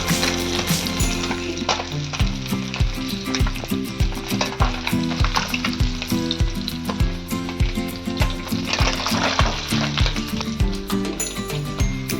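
Chopped onion sizzles continuously in hot oil left from frying pabda fish, with loud, close crackling and repeated clattering strokes of a spatula stirring the pan, and no voices.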